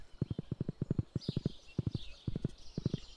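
Horse hooves clip-clop in the Stardew Valley farming game, a quick regular run of hollow hoof beats with brief pauses, close and clear over light background chimes.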